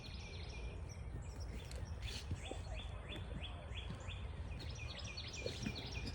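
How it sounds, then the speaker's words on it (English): Birds sing outdoors in an overgrown grassy yard, a run of repeated high chirps and short whistled calls, fairly faint and distant over a steady hiss of background noise. "Listen to the birds."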